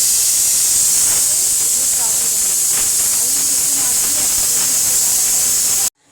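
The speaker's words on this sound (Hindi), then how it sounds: "और ये जो है मैं अभी घी गरम कर रही हूँ देसी घी" Desi ghee heats in a pan for a Punjabi methi kadhi tadka, giving a loud, steady sizzling hiss close up that continues nearly unbroken and then cuts off abruptly.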